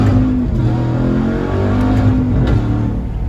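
A Dodge Ram TRX pickup accelerates hard in fourth gear, its engine droning loud and steady from inside the cab with rising harmonic tones, the pull holding strong throughout.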